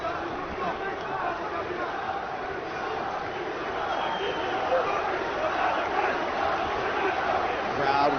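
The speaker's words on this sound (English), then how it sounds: "Crowd once again vocal in its support of Islam Makhachev." An arena crowd at an MMA fight roars in a continuous, dense wash of cheering voices, rising slightly toward the end, with a commentator talking over it.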